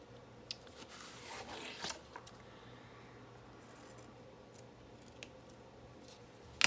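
Scissors trim the corner of a journal page close by, giving faint snips and light paper rubbing in a quiet room, with a brief louder cut near the middle.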